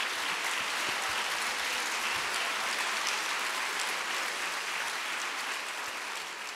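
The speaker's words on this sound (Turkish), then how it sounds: "Ona kuvvetli bir alkış bu." An audience applauds Şahan Gökbakar at a TEMA Foundation 30th anniversary special broadcast, producing steady, dense clapping that holds at an even, loud level throughout.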